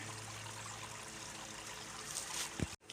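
Stream water flowing steadily beside a cave loop trail in Tennessee, a continuous close rushing wash that ends abruptly.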